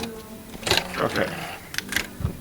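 A sewing machine stitches around an earbud case in short, uneven bursts of mechanical whirring, close by, with a faint voice underneath.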